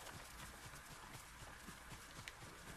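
Horse hooves clip-clopping in the video game Ghost of Tsushima, a steady rhythmic trot running through the whole stretch at moderate level over a constant bed of wind blowing across grass.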